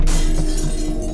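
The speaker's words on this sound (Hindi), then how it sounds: "उससे पहले कुछ कांच के टूटने की आवाज आई थी वहां से" Glass shatters loudly and close, a burst of breaking shards that rings on as a dense, bright wash for about a second.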